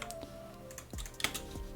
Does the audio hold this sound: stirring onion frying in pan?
no